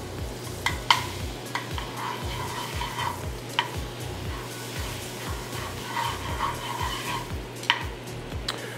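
Butter sizzles steadily in a hot pan before shrimp are seared, with a low rhythmic thumping underneath and a few sharp clinks of utensils.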